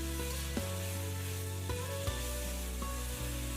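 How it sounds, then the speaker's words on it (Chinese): Chili peppers and onion pieces sizzle steadily in a hot wok with chili bean paste, a close continuous crackle broken by several light spatula taps, with no voices. "炒出香辣味，炒至断生就可以了"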